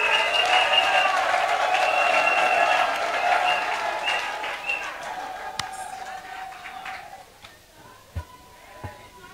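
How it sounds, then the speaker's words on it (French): Audience applause at a political investiture ceremony for the women's league of Laurent Gbagbo's PPACI party, a dense sustained clapping that fades after several seconds, leaving scattered claps and faint crowd noise. "On continue de l'applaudir."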